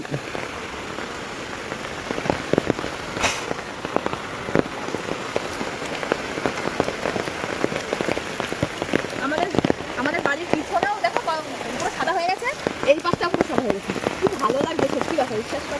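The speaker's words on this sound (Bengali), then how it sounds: "আর বৃষ্টিতে আমরা বেরোই না" Heavy monsoon rain pours steadily outdoors, a dense patter and crackle of drops striking surfaces nearby.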